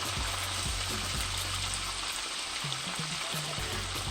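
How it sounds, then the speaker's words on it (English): Steady hissing sizzle of tilapia frying in hot oil, close by, with low bubbling and a few soft clicks underneath. "When you're frying like this"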